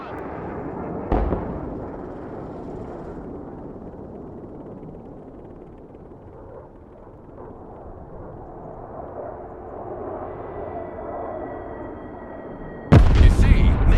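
Laser-guided smart bombs exploding in the Broken Arrow war game. A sharp blast early on gives way to a long aircraft drone and rumble, then a loud, close detonation bursts in near the end.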